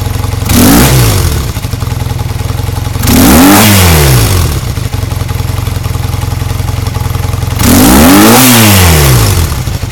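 A 1978 Honda CB400T Hawk motorcycle engine fitted with pod filters, revved loudly three times in rising and falling bursts over a rough, steady idle, very close.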